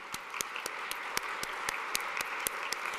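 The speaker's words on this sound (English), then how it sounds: "So let's give a round of applause to the priest." Applause from a church audience for a priest at a talk on the Eucharist: steady, moderately faint clapping with sharp individual claps standing out at a regular rhythm, no voices.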